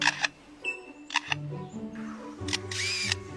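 A lyrebird in a forest mimics a camera shutter, giving a few sharp mechanical clicks and whirring bursts spaced over a few seconds, fairly close and moderately loud against quiet background.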